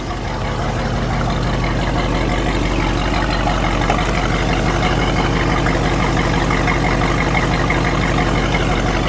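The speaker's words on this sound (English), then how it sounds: "That is the sound of a muscle car." A loud, steady 1969 Oldsmobile Hurst/Olds muscle car engine idles with a deep, throaty rumble, continuous and close by, without any revving.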